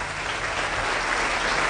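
Steady, dense applause from a church congregation, alone with no voices, continuous and even throughout the short burst.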